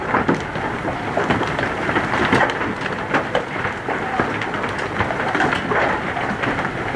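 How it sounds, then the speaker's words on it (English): Hail about one inch across pelts down in a dense, uneven clatter of sharp impacts on hard surfaces, over a continuous rushing roar of storm noise, in Lincoln, Nebraska. "Big hail falling."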